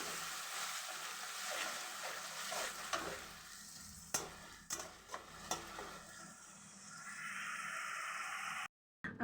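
Chopped onions with sliced red and green chillies frying in mustard oil in a wok give a steady close sizzle, broken by several sharp scrapes and knocks of stirring, with no talking.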